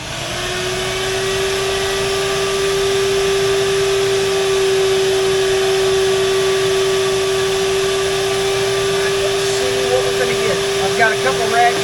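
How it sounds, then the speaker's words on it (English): A shop vacuum runs steadily on a tractor's hydraulic system during a filter change, a loud continuous motor drone with a strong steady hum, close by and alone for most of the stretch. "Here goes the vacuum."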